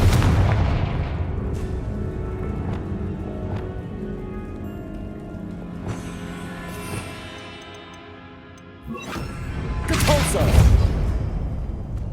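A Confringo fire spell cast in the Hogwarts Legacy game on PS5, heard as a string of booming, crackling magical blasts and impacts that swell into a loud burst near the end, with game sound around it.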